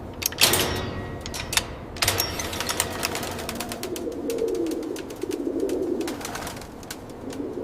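Pigeons at a large pigeon breeding farm, with soft cooing blending into a busy indoor ambience, scattered sharp clicks and taps, and a low steady background hum throughout.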